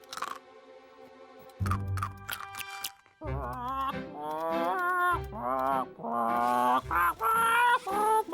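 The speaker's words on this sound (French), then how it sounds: "Le perroquet chanteur s'est remis à chanter." A cartoonish, honking bird voice sings a warbling melody in bursts, with short clunky pauses between phrases and a tinny metallic quality.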